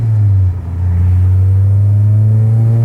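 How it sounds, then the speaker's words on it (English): Car fitted with a Yonaka catback exhaust and K-Tune header accelerating in normal driving, a loud steady low drone with a brief dip before the tone climbs gradually. "Let's just hear normal driving, like when we're just accelerating."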